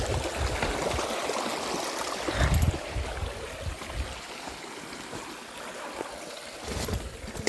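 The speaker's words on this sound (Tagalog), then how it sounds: "Kasi malaking ilog na ito." Broad, steady rush of a large river flowing, a constant wash of water noise close by with no voices, along a newly built shortcut road between Talisay, Pandan and Ibajay in Aklan.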